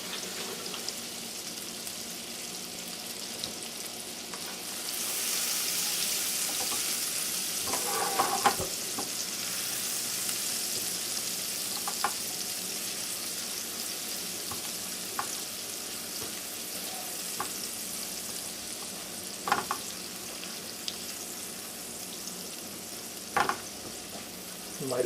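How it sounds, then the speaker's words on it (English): Onions and garlic sizzle in a couple of teaspoons of leftover bacon grease, a steady loud frying hiss with occasional scrapes and taps of a stirring utensil. "I'm going to lightly saute the onions and the garlic"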